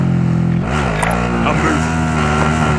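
Car engine in Call of Duty Warzone: a loud, close motor droning steadily with a brief rise and fall in pitch as it revs, mixed with game voice chatter throughout.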